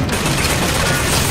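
Rapid gunfire from the video game Bioshock Infinite roars loud and dense throughout, a continuous barrage of shots with no pause.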